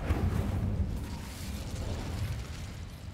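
The Incendio fire spell in Hogwarts Legacy bursts out with a loud whooshing blast at the start, then trails off into a rough, roaring fire rumble with no speech over it.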